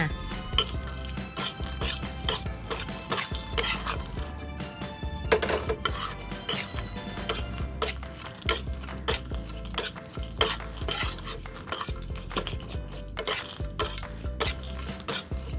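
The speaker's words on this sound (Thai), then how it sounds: "ใบมะกรูดที่เราทอดไว้นะคะ แล้วก็คลุกเคล้าให้เข้ากันค่ะ" Chili paste with crispy pork rinds and fried kaffir lime leaves is tossed in a pan, a spatula scraping and clinking against the metal in repeated strokes over a soft sizzle, close and without talk.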